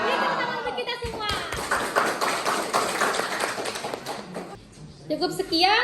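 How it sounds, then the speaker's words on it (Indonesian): Audience at a community learning centre event claps together, a sustained patter of many hands with taps and thumps, moderately loud, followed by voices as the clapping fades. "Beri tepuk tangan untuk kita semua."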